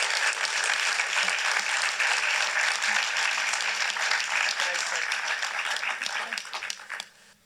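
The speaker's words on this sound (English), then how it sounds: "I think another round of applause." An audience at a film festival panel in Vermont claps in steady, sustained applause after a screening. The dense clapping holds evenly and then fades out at the end.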